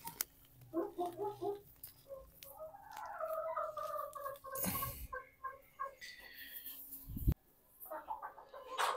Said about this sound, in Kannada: ಕೋಳಿಗಳೆಲ್ಲ ಆರಾಮಾಗಿದ್ದಾವ.